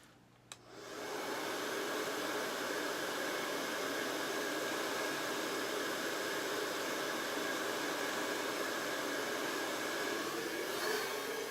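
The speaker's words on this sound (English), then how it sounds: "let's dry this with the dryer" A hair dryer switches on and blows steadily with a loud, continuous whooshing roar that holds for about ten seconds.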